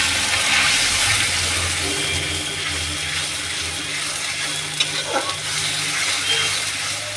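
Cumin seeds sizzle in hot oil, making a continuous bright frying hiss with faint crackles and no speech.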